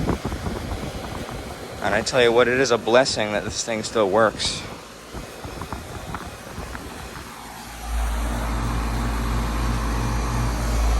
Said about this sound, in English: here is a 2002 Bryant Coastal central air conditioner running.